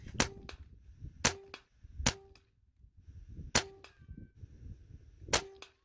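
A Benjamin Maximus .177 air rifle fires 21 grain NSA slugs at a 40-yard target: five sharp, loud cracks spaced a second or so apart, each followed by a faint metallic ring, with quiet handling noise between shots.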